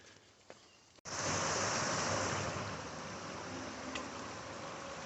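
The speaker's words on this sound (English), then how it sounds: "Nice waterfall right here crossing the trail." A waterfall crossing a hiking trail rushes in a steady, broad roar that cuts in suddenly and continues without a break, close and fairly loud.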